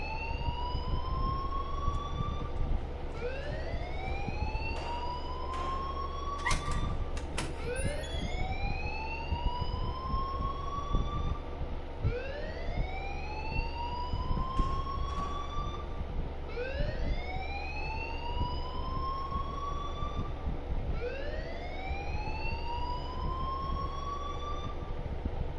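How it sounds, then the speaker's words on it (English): A rising, whooping electronic alarm sounds in the video game Life Is Strange, repeating roughly every three seconds over a steady low hum, loud and continuous, with no voices. "please turn off that alarm since that's your job"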